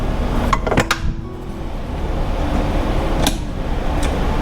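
A stand mixer fitted with a dough hook works egg noodle dough made with flour and eight cracked eggs, in a home kitchen on a homestead. A steady motor hum drones throughout, and a few sharp metallic clinks and knocks sound near the start and again later.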